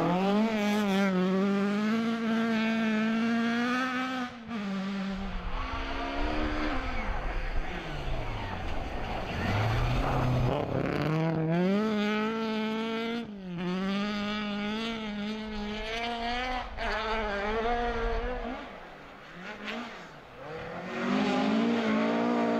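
Rally cars race at speed at the 2015 Peurunka Rally with Mikko Hirvonen competing, engines revving and shifting up and down through gears, sustained and fairly close, with voices under the engine noise.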